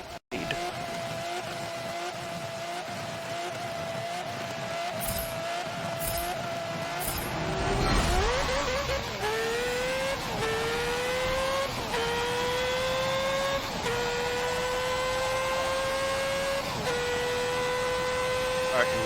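Race cars roar through a lap in Forza Motorsport 7, engines droning steadily with rising pitch sweeps as gears shift, a dense continuous mechanical whine under a talking voice.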